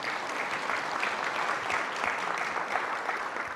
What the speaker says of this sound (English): I would say that deserves a round of applause